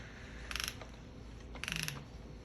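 An off-brand ratchet turns a socket on a Rockshox Lyrik fork, giving two short bursts of rapid metallic clicking from the pawl, close and crisp against a quiet workshop background.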